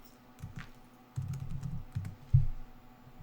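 Keys pressed on a computer keyboard for a Photoshop shortcut, a few close, soft clicks and thuds in short bursts, alone without talk.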